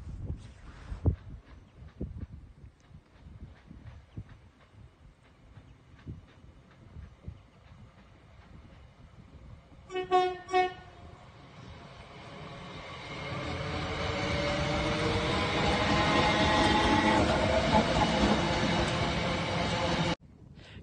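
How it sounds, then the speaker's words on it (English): Commuter train on the Clacton/Colchester line pulling out from a nearby station, a brief double horn blast sounding midway, then a loud, sustained rumble and rattle of carriages rolling past close by. "I managed to get the train coming from the station that time, and the driver actually honked at me."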